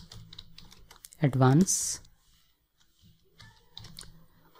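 Computer keyboard typing in light, quick clusters of key taps, heard under a voice speaking in Hindi and continuing in the pauses.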